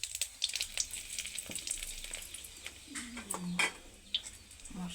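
Cumin, bay leaf and dried chili crackle and sizzle in hot oil for a koi fish kalia, a fairly faint, uneven frying hiss with a few soft clatters and bird coos in the background.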